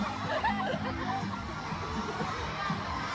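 Large crowd at a concert of a Filipino girl group cheering and shouting, a dense, continuous roar of many voices that stays steady throughout the short stretch.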